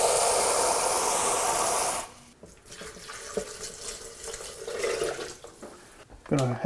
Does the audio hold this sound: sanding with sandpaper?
no